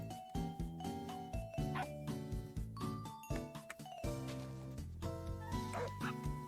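Several tamed dogs bark in the video game Minecraft, with short repeated yips and woofs popping up over steady background game music.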